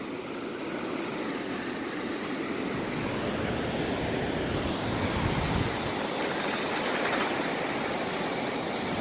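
Ocean waves wash steadily onto Santa Monica beach, a continuous loud roar of surf with some wind noise on the microphone, no voices.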